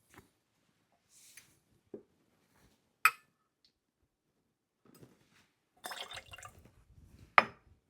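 A short pour of simple syrup for a gin gimlet makes a brief, faint trickle of liquid into glassware, set among scattered drips, light glass clinks and ticks in a quiet room.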